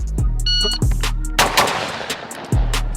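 A Tristar Setter S/T over-under 12 gauge shotgun firing several loud, close blasts at uneven spacing, each a sharp crack with a booming tail and short beeps between shots.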